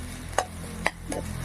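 Pieces of pre-fried fish are mixed with white taro in a pan outdoors, giving a few soft scraping stirs over a faint steady sizzle, with the wind audible.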